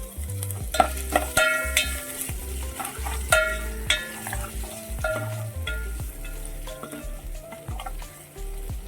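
Crushed garlic and ginger fry in hot oil in a pan for a spinach and dal curry, giving a steady close sizzle broken by repeated stirring scrapes and clinks; a little music plays underneath.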